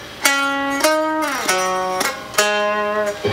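Electric guitar riff played live through a Line 6 Helix, four or five distinct picked notes and chords with clear attacks and ringing sustain, loud and alone without any voices.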